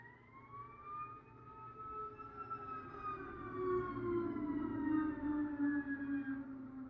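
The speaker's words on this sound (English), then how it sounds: "And here come them damn sirens." Distant wailing sirens rising and falling in pitch, several overlapping tones gradually growing a little louder over a low rumble.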